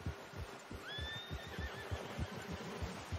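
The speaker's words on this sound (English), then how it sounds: "It says stay quiet and the frickin' horse makes noises." Horse in Red Dead Redemption 2 whinnies once, a rising then wavering neigh lasting under a second, over a steady low throbbing pulse and faint ambient hum.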